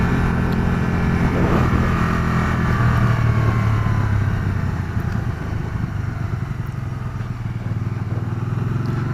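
A Can-Am Spyder RS three-wheeled motorcycle engine held in first gear at mid revs, a loud, steady drone near the rider with no talk, easing slightly in the second half.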